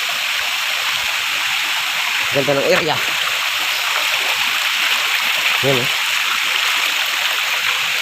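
A river in Quezon province rushes with a steady, broadband flowing hiss of water throughout, while someone speaks briefly twice over the sound.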